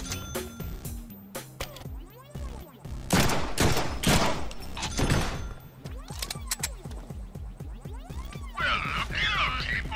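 Bursts of rapid gunfire and single shots crack out in the Deadpool video game, loud and close, mixed with metallic clinks, a throbbing musical score and scattered voices.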